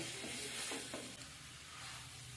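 Cauliflower and potato sautéed with spices in a pan for a Bengali cauliflower kalia, a soft continuous sizzle with brief stirring scrapes, fairly quiet and without speech.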